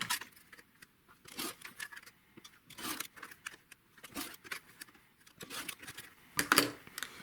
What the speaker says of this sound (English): Now we're going to cut on all 4 of the lines.